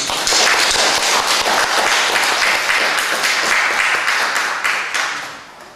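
Church congregation clapping together during a Sunday worship service: loud, dense, sustained applause from the whole room with sharp crackling claps, holding steady and easing off near the end.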